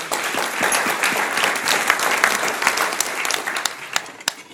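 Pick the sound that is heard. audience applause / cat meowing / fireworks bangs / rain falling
audience applause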